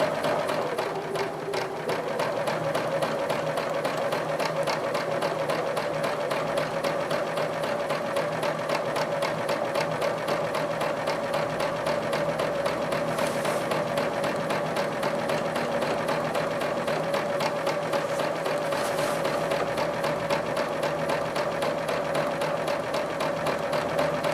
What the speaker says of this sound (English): I'll stitch down the side, stitch out on the bottom, and now I'm ready to go to that next triangle